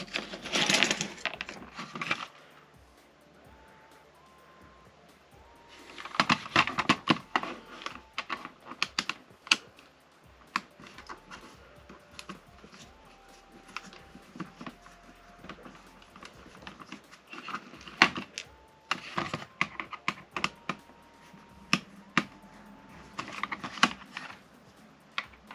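A screwdriver works screws out of a toy blaster, giving irregular small clicks and rattles with occasional louder clusters of handling and clinking, near and alone.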